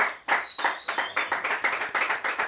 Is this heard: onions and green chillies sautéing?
no